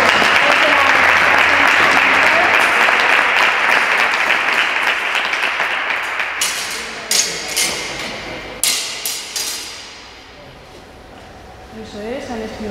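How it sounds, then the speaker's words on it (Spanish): Audience applauds at a lecture on Renaissance historical fencing, a dense, loud burst of clapping that gradually thins into scattered claps and fades, followed by a voice speaking. "Aplaudan porque"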